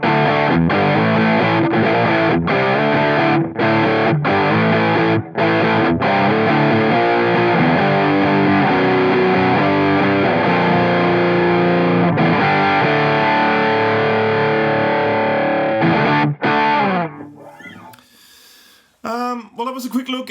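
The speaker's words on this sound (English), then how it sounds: "T-Rex Mudhoney, couple of different guitars, couple of different amps, comparing it with the real Mudhoney" Electric guitar run through a T-Rex Mudhoney distortion pedal and amp, playing thick, saturated chords and riffs loudly for a long stretch before fading into a few quieter, sparse notes.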